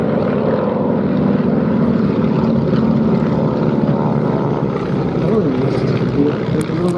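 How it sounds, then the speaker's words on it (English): A D17S biplane powered by a 450 hp Pratt & Whitney radial engine flies over an air show, its propeller drone steady and loud throughout while a commentator speaks over it. "This is the D17S with a slightly longer fuselage, better stability, 450 horsepower Pratt & Whitney Ross Junior engine"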